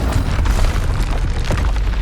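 A Confringo fire spell erupts in the video game Hogwarts Legacy, a loud booming blast that keeps rumbling with crackling bursts and pops through the whole two seconds.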